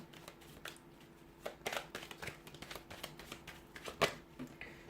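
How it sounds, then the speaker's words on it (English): Tarot cards riffle and slap together in short, quick bursts, close by, with soft handling noises between shuffles and no talking. "So we'll give the cards a shuffle"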